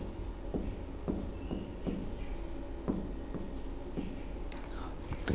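Chalk or marker writing on a board in a classroom, a series of short scratchy strokes at an uneven pace, faint and close with a quiet room hiss behind.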